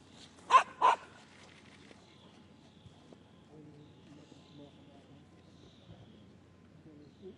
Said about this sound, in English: Barking is okay.